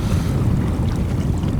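A fishing boat rides through swells on Lake Michigan in rough conditions, with a steady low rumble of wind and water washing against the hull, close and constant with no voices.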